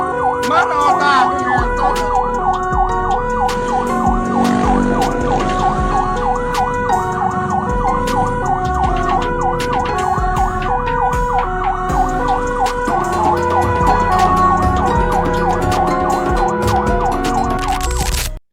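An ambulance siren on a road in East Java wails loud and close in a continuous repeating pattern, sharing the street with a carnival sound-system procession, with traffic noise and faint voices underneath.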